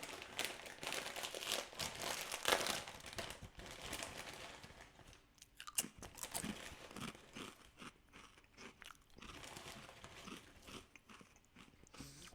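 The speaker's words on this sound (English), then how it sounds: "These potato chips are made with rice flour, providing a satisfying crunch and a lighter texture." Rice flour potato chips being crunched and chewed close up, with crisp bites, crackly crunching and crinkling packaging in an irregular rhythm, fairly quiet and without talk.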